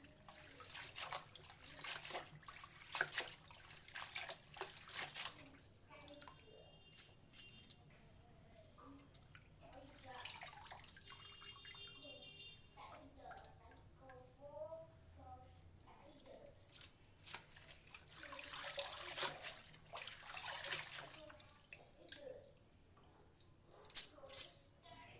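Leafy greens are washed in water for an Odia stir-fry, with intermittent splashing, rattling and trickling bursts near the microphone and a voice talking between them.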